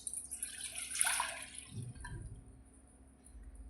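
Tamarind water poured into a pot while making Ugadi bevu, a short splashing trickle of liquid up close that tapers off into a faint low gurgle after a couple of seconds.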